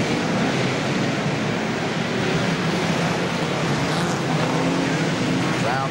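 Saloon stock cars race around the Wimbledon track in 1982, a continuous loud roar of several engines mixed with crowd and arena noise and no break in the din.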